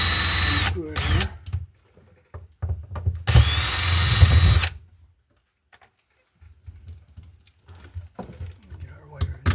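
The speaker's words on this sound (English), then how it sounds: "I don't like how the wires are pushing against it, so I'll just unscrew it here." A power drill unscrews an electrical outlet in a wall, in short bursts of motor whir with one longer run. Quiet handling gaps and light clicks fall between the bursts, and a person talks briefly.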